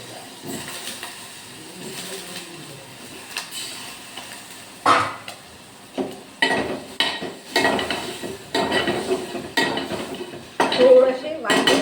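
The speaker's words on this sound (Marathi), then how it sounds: "आता वांगे सोडून देऊया याच्यामध्ये." Brinjal goes into a pot of masoor dal curry with clattering of the pot and utensils, several loud knocks and scrapes, stirring and a faint sizzle underneath, close and busy.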